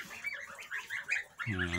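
Soft, high peeping calls from Kholmogory goose goslings over ten days old chirp repeatedly in a quick, restless stream, close by, ending with a louder honking call.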